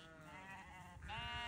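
Sheep and lambs on a farm bleat, with two wavering calls in quick succession, fairly close and quiet against the open air, and no talking.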